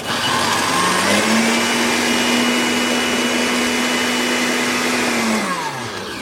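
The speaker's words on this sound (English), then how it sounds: "We're gonna blend this until it's completely blended" An electric blender blending ginger spins up, holds a steady high whirring drone for several seconds, then winds down, loud and close with no talking.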